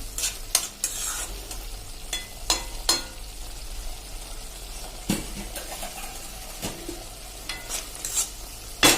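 Gravy for bottle gourd macaroni pasta sizzles softly in a pan while a spoon scrapes and stirs it in repeated sharp strokes, close and clear, with no talking.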